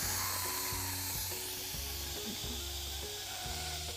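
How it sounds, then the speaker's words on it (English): A pressure cooker set to quick release vents its steam in a steady, bright hiss that continues for several seconds, with fainter low tones underneath, then cuts off abruptly. "we're gonna turn it to quick release, which is turning it to venting so all the steam will come out"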